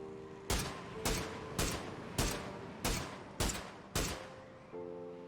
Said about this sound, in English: Shooting far in front of the enemy vehicle is the way to nail a shot like this.